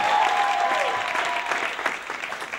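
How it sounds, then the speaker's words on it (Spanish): Loud, sustained clapping from a crowd, with a brief cheer or whistle near the start before the applause tapers slightly. "Un aplauso para Anselo y sus zapatos nuevos."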